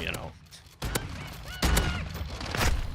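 Shotgun blasts in a video game, several sharp booming shots spaced a second or so apart, up close, over a murmur of background sound.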